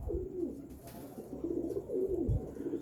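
Pigeons coo softly and repeatedly in low, rolling calls, close by, with a soft thump partway through.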